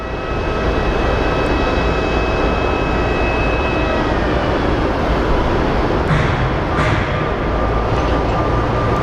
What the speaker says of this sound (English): We have a CRJ that's being pushed back